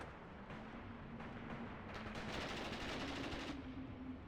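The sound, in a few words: machine guns firing in video game Mius Front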